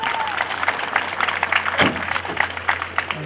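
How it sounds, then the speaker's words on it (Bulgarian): Crowd applause at a rally awards ceremony outdoors, a few seconds of dense clapping with a sharp louder burst midway and a low steady hum beneath. "Аплодисменти, дами и господа."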